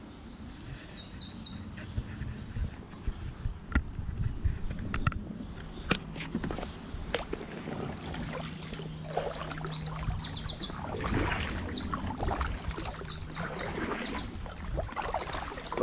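Solo canoe paddling on the shallow upper Thames near Cricklade, with soft water swishes and knocks from strokes, while birds chirp and sing repeatedly close by in dense green surroundings.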